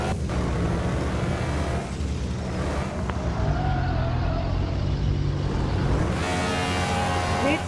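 A heavy car in a video game roars steadily with a constant engine drone and rumble as the driver tries to drift, with shifting tire and engine tones throughout.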